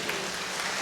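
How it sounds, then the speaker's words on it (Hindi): An audience at a Holy Eucharist celebration clapping loudly, a dense and steady burst of applause from a crowd close by. "ताली बजा देंगे जोर से।"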